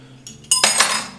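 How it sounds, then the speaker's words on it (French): Dishes and cutlery clink and clatter as a home dishwasher is loaded, a quick close run of bright ceramic and metal knocks. "il y a plein de trucs à mettre au lave-vaisselle là"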